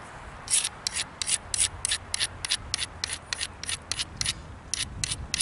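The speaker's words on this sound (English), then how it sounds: "that bottom's taking a decent grind" A mookaite stone point is ground with rhythmic, evenly spaced rasping strokes, about a dozen close scrapes repeating steadily over a low background rumble, with no talking.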